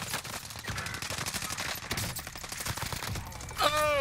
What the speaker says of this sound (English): They should know just based on the gunshots they're hearing